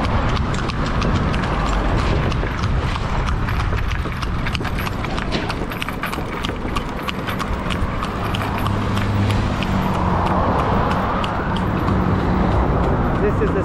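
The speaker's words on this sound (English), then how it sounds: "You can see the next horse and cart." Horse hooves clip-clop steadily as a horse pulls a cart along a road, the regular beat close and loud over traffic rumble, with voices talking alongside.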